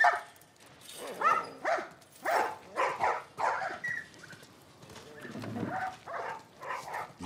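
Dogs in The Last of Us Part 1 bark repeatedly in a steady run of sharp, fairly close barks and yips, with a faint low rumble underneath near the end.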